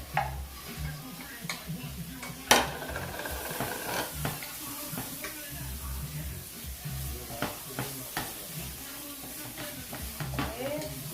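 Ginger frying in oil in a home kitchen pot, a soft steady sizzle broken by repeated scraping and stirring clatters, fairly quiet, with a person talking intermittently.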